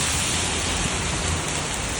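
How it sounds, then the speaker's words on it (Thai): Heavy rain pours down steadily during a storm outside a bus terminal in Roi Et, Thailand, a dense, constant hiss close by with no voices. "ฝนก็ลงมาเรื่อยๆ"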